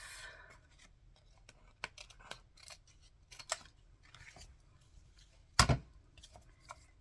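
Scissors snip through paper at a crafting table, a handful of separate crisp cuts with one loud close snip near the end, amid light rustling and quiet handling of paper pieces.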